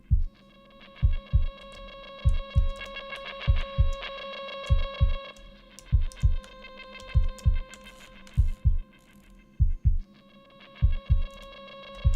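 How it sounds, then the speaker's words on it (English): A synthesized heartbeat programmed on an OP-XY synthesizer thumps in steady double-beat pairs, lub-dub repeated rhythmically for about twelve seconds over a sustained tonal pad with a fluttering upper texture. "let's make it sound like a heartbeat"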